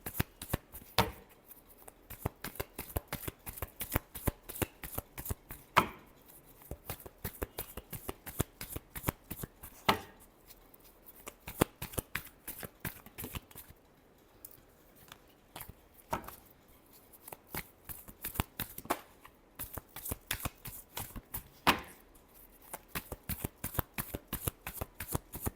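Tarot cards shuffled by hand during a love reading, a steady run of quick crisp riffling bursts that repeat close-up and fairly loud with brief pauses, with no talking.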